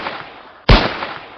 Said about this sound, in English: I did the gunshots because I needed something for when I shoot people